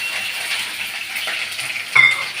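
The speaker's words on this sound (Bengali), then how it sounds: "পেঁয়াজটা ভাজবো" Onions sizzle steadily in hot mustard oil in a pan, with a loud close crackle and one metallic clink of a utensil near the end.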